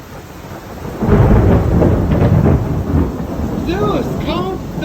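Heavy thunder rumbles loudly through a rainstorm, swelling to a sustained roar over steady rain, with a brief exclamation-like voice near the end.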